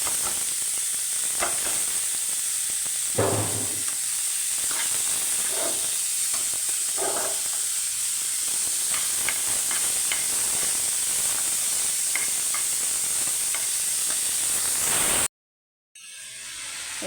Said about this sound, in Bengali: এখন কাঁঠালের বিচিটা দিয়ে কষিয়ে নেব।